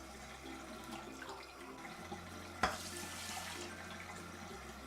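Water runs from a tap into a pot holding a cup of uncooked rice, making a faint, steady rushing stream with a single sharp knock partway through.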